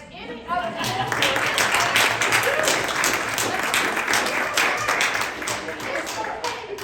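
A community meeting audience breaks into loud, sustained applause, dense clapping building after a brief voice and continuing evenly.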